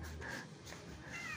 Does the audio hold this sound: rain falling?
no